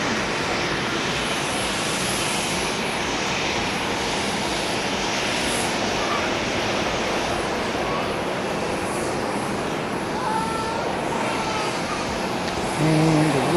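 A JAL airliner arriving from Hiroshima at Tokyo Haneda Airport produces a broad, steady engine roar that persists, with faint tonal sounds rising near the end.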